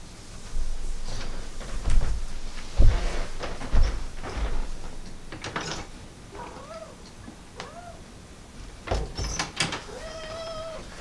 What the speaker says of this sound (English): When my cats came in, Merlin, he's a talker.